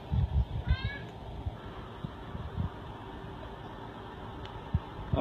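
A shelter cat meows a few times near the start over a steady fan-like hum and faint background noise, with brief soft thumps along the way.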